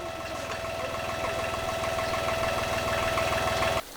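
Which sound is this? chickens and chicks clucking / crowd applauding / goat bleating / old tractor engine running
old tractor engine running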